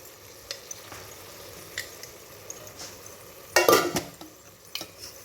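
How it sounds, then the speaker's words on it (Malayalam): Chili powder is stirred into hot oil in a pan, a soft sizzle under scattered scrapes and clinks of a spoon against metal, with one sharper louder scrape near the end; close by, no talking. "ഇത് നന്നായി ഒന്ന് ഇളക്കുക."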